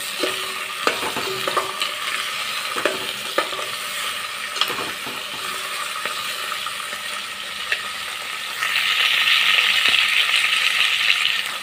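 Cucumber sambar stirred in a pan: scattered spoon scrapes and taps over a continuous low sizzle, with the simmering hiss growing louder near the end.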